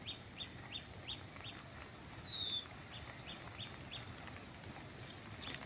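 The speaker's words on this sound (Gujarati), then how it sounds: "પંખીના અવાજ સંભળાવા માંડ્યા અલગ અલગ" Several birds chirp and call at once, faint and some distance away, with repeated short tweets and one clearer whistled note over quiet outdoor ambience.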